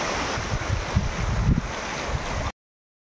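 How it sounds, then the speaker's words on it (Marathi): Water rushes at the top of a Konkan waterfall, a dense, steady roar close to the microphone with some wind buffeting, no voices, cutting off abruptly. "हे धबधब्याच्या वरचा भाग आहे, जिथून खाली पाणी पडणार आहे हे पाणी."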